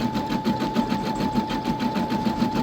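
An embroidery machine running in a shop gives a steady, fast, rhythmic stitching chatter with a constant mechanical whine underneath, loud and close.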